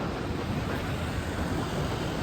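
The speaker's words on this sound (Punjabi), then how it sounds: "ਮੌਸਮ ਵਧੀਆ ਏ ਤੇ ਹਵਾ ਚੱਲਦੀ ਅੱਜ" Constant loud wind buffeting, a dense roaring rush that stays steady throughout.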